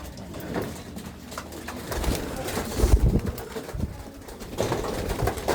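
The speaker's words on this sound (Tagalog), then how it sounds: "Nakakita ko nagpupuntahan na sa akin eh. Yan, ng aking mga alagang kalapate." Hungry homing pigeons crowd in to feed, their soft, overlapping coos and burbles near and continuous, mixed with wing flutters and rustling as the flock jostles.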